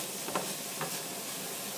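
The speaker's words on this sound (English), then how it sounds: "Want to kind of cook the tomato paste in" Tomato paste cooking in a pan for a cream tomato spaghetti sauce gives a faint, steady sizzle with a couple of soft stirring scrapes, heard alone.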